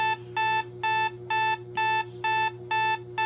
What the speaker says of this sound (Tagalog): At yan, nagkaroon pa ng alarm.